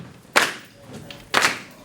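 Two sharp hand claps spaced about a second apart from an audience keeping a beat for a song at a historic Fulton presentation, loud and close with a quiet gap between.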